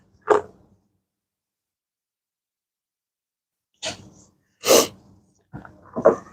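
A person's nose sniffles in short, sharp bursts: one quick sniff, a long quiet pause, then several more close sniffs in an irregular run.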